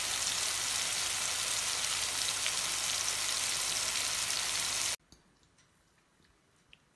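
Banana slices coated in cinnamon and sugar fry in a pan with a dense, steady sizzle for about five seconds, then cut off abruptly to near silence with a few faint ticks.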